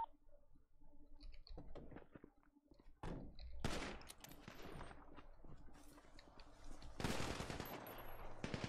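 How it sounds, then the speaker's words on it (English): Video game gunfire in a roleplay server, with sharp shots and bursts scattered across the stretch, a heavy volley near the start and another around the seventh second, loud and close. "All that extra shooting, bro."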